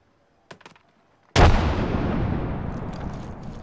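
A frag grenade detonates in Apex Legends with a sudden heavy boom that rolls into a long, loud rumbling decay, preceded by a few faint clicks and taps.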